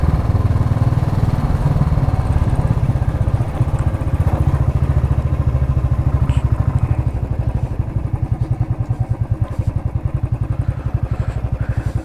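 A motorcycle engine rumbles steadily and close up through a downhill U-turn on a Himalayan mountain road in Uttarakhand, ridden in a low gear, its low throb turning into a pulsing, chugging rhythm as it slows through the bend.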